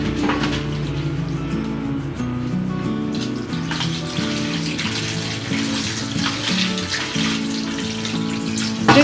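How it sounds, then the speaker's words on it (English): Tap water runs steadily into a sink while raw chicken is rinsed with water and a little vinegar, a continuous close splashing stream with no talk. "Pour few drops of vinegar into the chicken and rinse with water."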